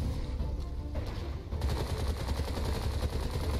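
Sustained, dense gunfire from the Bright Memory video game during a boss fight: a loud, continuous rattle of rapid shots that grows fuller and heavier after the first second and a half, with no talk over it.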